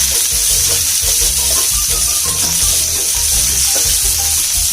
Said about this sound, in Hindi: इसमें अनियंस को ज़्यादा हम लाल नहीं करेंगे, बस हल्का सा ट्रांसपेरेंट होने तक ही पकाएंगे